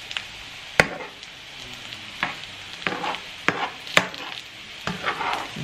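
A spoon scrapes and stirs a vegan kebab mixture with onions in a frying pan. The mixture sizzles softly beneath sharp, irregular knocks and clicks against the pan.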